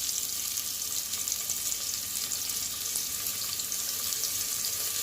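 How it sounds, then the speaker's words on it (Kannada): Onions fry in a pan for mutton curry, giving a steady, even sizzle that holds at the same level from start to finish with no voices. "ಈರುಳ್ಳಿ ಚೆನ್ನಾಗಿ ಫ್ರೈ ಆಗಬೇಕು ಗೈಸ್."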